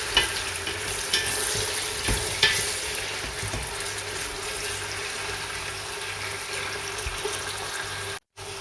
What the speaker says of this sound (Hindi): हम इसमें डालते हैं सबसे पहले प्याज। इसको गोल्डन ब्राउन करेंगे।